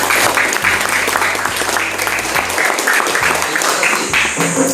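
A classroom of students claps together in a dense, continuous round of applause that stays loud for several seconds, with a few voices over it.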